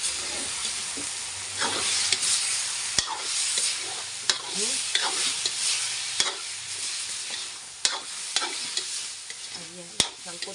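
A tuna head browning in a pan, a continuous crackling sizzle with periodic sharp clanks and scrapes as the pieces are turned, heard up close with no voices.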